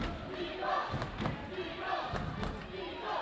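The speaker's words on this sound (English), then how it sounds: "Big crowd here tonight, lots of noise." A big, noisy crowd in a gym at a girls high school volleyball game, a steady roar of voices and cheering with sharp thuds and ball hits cutting through, loud and close.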